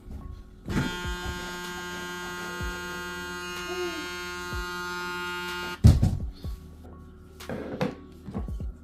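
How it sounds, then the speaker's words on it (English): A TPOB Goblin electric trimmer hums steadily and close for about five seconds before it switches off, then a couple of clunks and handling knocks follow. "so now let's make our sound check. And the trimmer."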